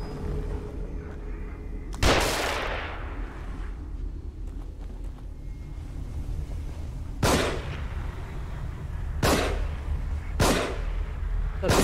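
Rifle shots in the survival horror game The Evil Within, four loud sharp reports spaced several seconds apart over a low rumbling background, with the first shot followed by a long fading echo.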